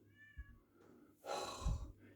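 A house cat meows twice, a short plaintive call and then a louder drawn-out one, close by, in a quiet room where an electric razor is being tested.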